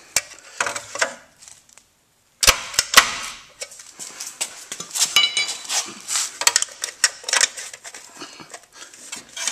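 A plastic fake lug nut cover being pried off a car wheel while changing a flat tire: a close run of sharp plastic clicks, snaps and rattling clatter, with a brief silent gap before a denser burst of scraping and clicking.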